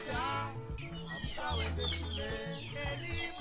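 Chickens kept in a household compound cluck and call steadily, close and loud, with several birds overlapping and no talking.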